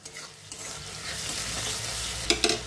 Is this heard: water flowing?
no